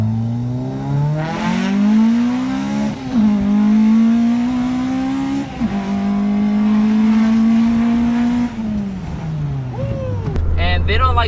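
A Honda B18C5 engine fitted with individual throttle bodies revs hard through repeated pulls, a loud, close, rising howl that climbs, drops between gear changes and climbs again, ending in a lower idle rumble, with a voice talking over it.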